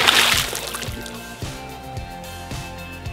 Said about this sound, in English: And then next, you'll take the anchor weight and toss that in the water.